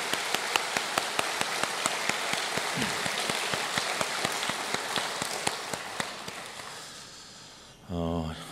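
Church congregation applauding, crisp claps scattered across the room for several seconds, then fading out, followed by a brief voice at the end.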